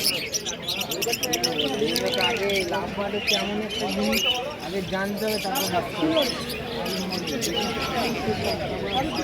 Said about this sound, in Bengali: এনার কাছেও কত সুন্দর সুন্দর পাখি রয়েছে দেখতে পাচ্ছেন